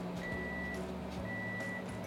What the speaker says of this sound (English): Once it's done, it will beep to let me know that the food is ready to go in the oven.